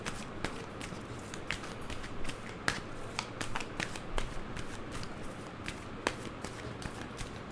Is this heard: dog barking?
no